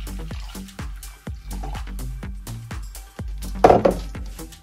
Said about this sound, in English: it says to pour 100 mils of coffee machine cleaner into the water tank